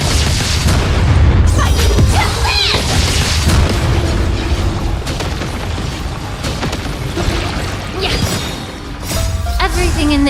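Explosions in the video game Honkai: Star Rail, heavy booming blasts with crackling bursts and shattering debris, loud and dense throughout, with a voice speaking over the effects at times.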